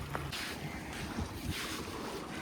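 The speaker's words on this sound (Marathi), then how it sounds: "समोर बोटिंग चालू आहे जोरदार अशी" Boat engines and water churn in the distance on the sea at Devbag, Malvan, under gusting wind noise, with waves washing in the background.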